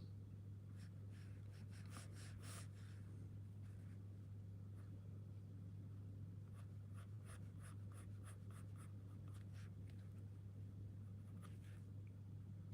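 A pencil sketches a figure study on paper, making soft, close scratching strokes in irregular bursts, with quiet pauses between them over a low, steady hum in a quiet room.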